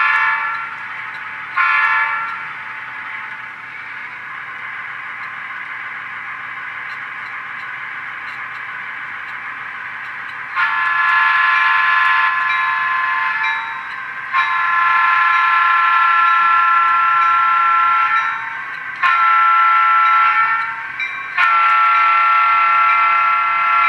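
DCC model train running with electronic horn sounds: repeated sustained horn blasts in several long bursts over a steady low motor hum, close and fairly loud, with no talk.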